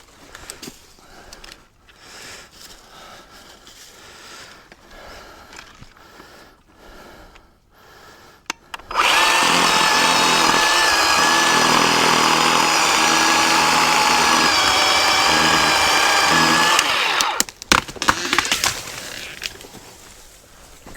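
A Harbor Freight 10 inch electric chainsaw bites into wood, a loud, sustained high whine that starts abruptly after a quieter stretch of rustling and runs steadily for about eight seconds before cutting out.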